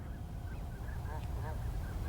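Migrating Canada geese honking east of a city in spring, several faint distant honks in an irregular run over low background rumble and a murmur of voices.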